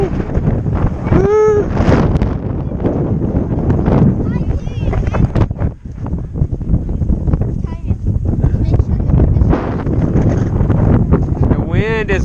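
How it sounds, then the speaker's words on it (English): Strong wind blows outdoors on a hill near a dam, buffeting the microphone in loud, rough gusts throughout while people talk over it. "The wind is blowing,"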